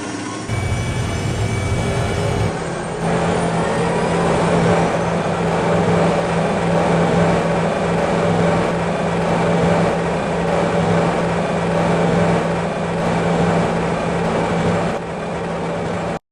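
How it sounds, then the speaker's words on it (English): A loud, rumbling T-80 tank engine in the Minecraft Flans Mod runs continuously with a deep mechanical roar and slight variations in tone, ending with a sudden stop. "The T-80 gets fun by engine noises."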